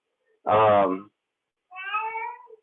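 A cat meows twice nearby: first a loud, drawn-out meow, then after a short pause a softer, higher-pitched one.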